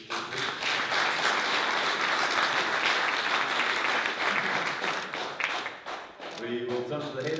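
Sustained applause from a crowd at a Road America motor race event, dense and steady for several seconds before tapering off as voices come in at the end.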